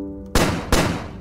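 Two sharp gunshots crack in quick succession from a weapon in the video game Starbound, loud and close, after a brief hum of game music.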